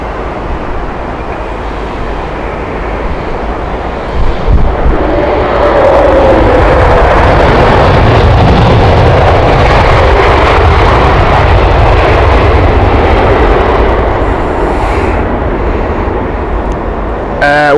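An Avianca airliner arrives at London Heathrow Airport, a loud, broad jet roar that swells after a few seconds and holds steady, with no talk over it.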